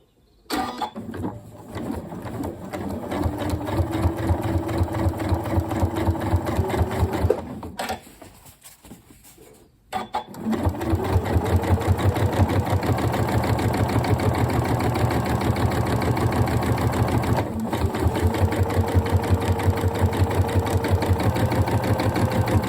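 A Janome Horizon Memory Craft 9480 sewing machine stitches at a long stitch length, its needle chattering in a fast, even rhythm. It runs for about seven seconds, pauses briefly, then stitches steadily again, close and clear with no talking.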